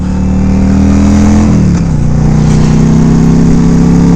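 A Yamaha V Star 1100 Custom cruiser motorcycle rides off with a loud, steady engine drone, then dips briefly as it shifts gear and settles back into a smooth running tone.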